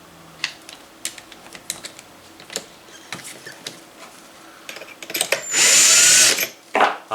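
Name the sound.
hand trimming and deburring rifle brass cases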